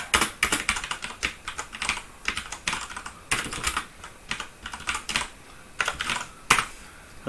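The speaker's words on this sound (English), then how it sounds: "Hopefully the clicking of the keyboard is not too bad for people listening." Computer keyboard typing while writing Ruby code: rapid bursts of crisp, close clicks in an uneven rhythm with brief pauses between words, heard alone without talk.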